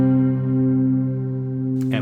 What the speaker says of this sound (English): to use the ring thing as an octaver to make my guitar sound like a bass